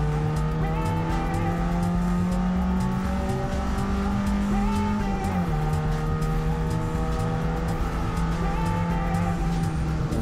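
Race car on the Pau Grand Prix street circuit braking hard in a straight and turning sharply into a very fast first corner, the engine droning loud and continuous with a drop in pitch as it slows, then a steady roar.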